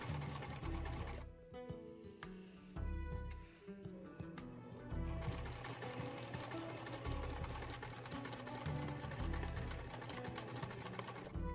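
A sewing machine stitches a Regency stays panel to a hip gore, running slowly and carefully in short start-stop bursts before a steady close-up whir.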